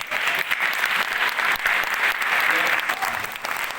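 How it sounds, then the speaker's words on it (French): A conference audience applauds loudly, many hands clapping in a dense, sustained burst with slight swells in intensity, filling the room without any voice over it. "Je pense que vous pouvez les applaudir très très fort"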